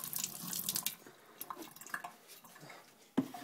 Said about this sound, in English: This is how you should water your plants